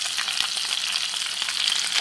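An onion goes into a hot pot and fries for a Gilan-style pomegranate chicken stew, giving a steady dense sizzle with faint crackles, close and continuous with no talking.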